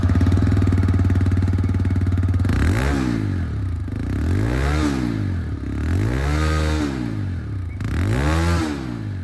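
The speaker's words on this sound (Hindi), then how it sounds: "चलिए रेयर में अब यहाँ पर इसकी जो एग्जॉस्ट साउंड है सबसे पहले मैं आप लोग को" A 2023 TVS Raider 125 BT E20 motorcycle's exhaust idles loudly and close, then climbs through three revs that each rise and fall back to a steady idle.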